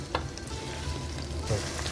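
Chicken sizzles and crackles steadily in a hot pan, with a brief stir or clatter midway.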